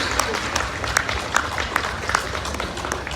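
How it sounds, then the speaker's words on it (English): Crowd at an outdoor Canada Day celebration in an amphitheater applauds two young children who danced, brief scattered clapping and cheering over a busy, noisy background. "Can we give my great niece, who's 6, and my son, who's 2, another round of applause?"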